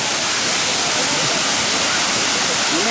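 Kintampo waterfall in Ghana pours down in a loud, constant roar of rushing water, close and unbroken, filling the whole space with dense hiss and rumble.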